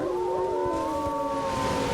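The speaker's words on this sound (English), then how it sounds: "Ah, the howling winds" Howling winds in the video game Elden Ring, a steady moaning wail with sustained wavering tones over a low rumbling bed, continuous and fairly prominent with no talking.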